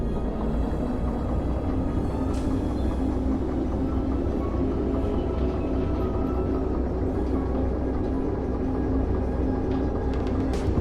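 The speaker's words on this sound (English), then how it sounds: "I'm just going to go ahead and move this locomotive back to its track." A locomotive in the Derail Valley train game rolls along its track, giving a steady, loud mechanical rumble throughout with no talk.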